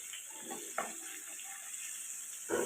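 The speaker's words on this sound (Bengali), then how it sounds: "হিংটা একটু ভাজা ভাজা করে নিয়ে" Asafoetida (hing) frying in hot oil for pumpkin chokka, a steady soft sizzle with a few light clinks and stirring scrapes and a louder burst near the end, no talking.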